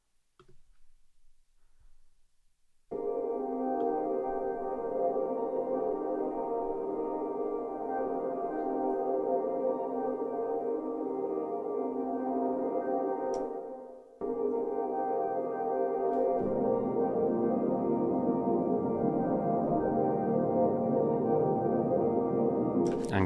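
A lush, reverb-soaked atmospheric drone built in Logic Pro 11 holds a steady, rich sustained tone alone. It cuts off briefly partway through, then swells back in with a thicker low end.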